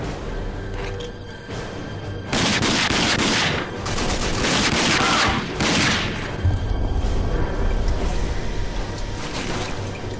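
Sustained automatic gunfire from a shooter game, Rage, as the player fires again and again at enemies; dense bursts of shots with booming impacts roll on loudly almost without pause.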